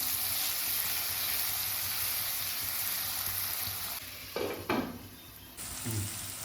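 Mixed vegetables fry with salt in a pan for malai paneer, giving a loud, dense and continuous sizzle. A few scraping stirs and knocks near the end briefly break the steady hiss.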